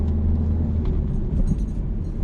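A car accelerates on a road near a roundabout during a driving lesson, its engine giving a steady low rumble that swells slightly as it shifts into third gear.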